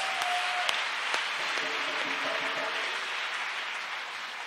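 A church congregation applauds for Jesus Christ at a French-language testimony gathering. The clapping is a sustained, dense wash from many hands in a reverberant hall, steady and moderately distant, with a few faint voices mixed in.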